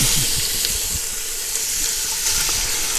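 Ground meat browning in a hot pan for beer chili, a steady close sizzle and hiss holding evenly throughout with faint low clatter underneath.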